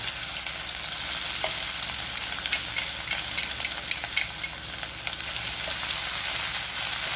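Curry leaves, ginger-garlic-coriander paste and black masala sautéing in a pan for spicy drumstick masala, a continuous close sizzle with scattered clicks and scrapes of stirring, no talking.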